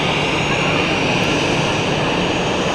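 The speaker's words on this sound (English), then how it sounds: "This is the 777" A Swiss Boeing 777 departs Zurich Airport for LAX, its jet engines roaring in a loud, steady wash of noise heard from an observation deck, continuous throughout.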